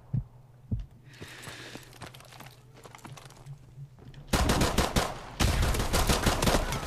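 Gunfire in a shooter game: a few faint shots over a low throbbing hum, then loud sustained bursts of rapid shooting filling the last seconds.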